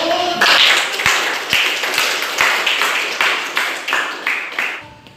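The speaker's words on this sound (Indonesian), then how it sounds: "kita tepuk tangan dulu" A classroom of pupils claps together, a brisk, slightly uneven patter of hand claps with several sharper rhythmic beats, lasting about five seconds before stopping.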